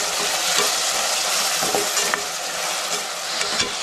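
Tomatoes fry with softened onion in a pan over low gas, giving a constant dense sizzle with small scraping stirs and light spoon taps, close up and without voices.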